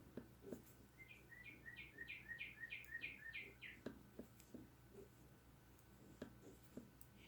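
Outdoor birdsong, a rapid string of about a dozen bright chirps in a steady trill, fairly faint and distant, over soft room clicks and scratching.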